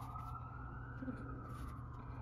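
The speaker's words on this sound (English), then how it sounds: "forgive me for the sirens." Emergency vehicle sirens sound continuously at a distance outdoors, a steady wailing tone over a low rumble of traffic, with no speech.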